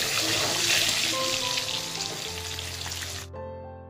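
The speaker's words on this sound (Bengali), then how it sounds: "আলুগুলো সেদ্ধ করে রাখা ওগুলো জল ঝরিয়ে পেতে রাখলাম" Cooking water poured off boiled potatoes in a home kitchen: a steady, close rushing splash for about three seconds that cuts off abruptly, with music continuing faintly behind.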